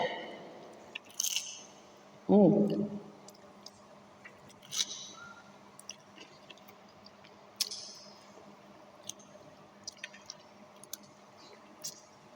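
Fried durian fritter with a crisp batter skin being chewed close to the mic, quiet soft squishy bites with scattered crunchy clicks and one louder crackling bite.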